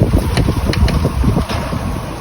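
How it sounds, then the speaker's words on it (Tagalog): Strong typhoon wind in Batangas, Philippines buffets the microphone in loud, rough low-frequency blasts, a constant roaring rush with no voices. "sobrang lakas ng hangin guys ang ingay mo ng hangin nakakatakot"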